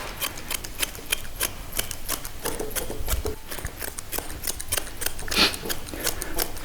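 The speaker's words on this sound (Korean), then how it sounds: "이 라인까지는 어느 정도 시저링을 할 겁니다." Grooming scissors snip rapidly and rhythmically through the coat of a West Highland white terrier, close and crisp, a steady run of quick cuts with no talking.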